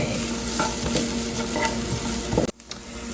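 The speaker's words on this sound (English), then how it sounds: "now we're just going to saute these a little bit" Vegetables sauté in a pan with a loud, steady sizzle and rhythmic stirring scrapes, then the hiss cuts off abruptly near the end.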